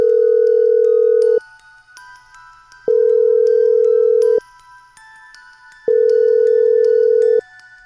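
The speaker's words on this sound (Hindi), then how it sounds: "कुछ समय इंतजार करने के बाद माधवी ने एक बार फिर से मुकेश को फोन लगाया।" A phone ringback tone repeats three times, each long steady beep followed by a pause, clear and close with faint tones underneath.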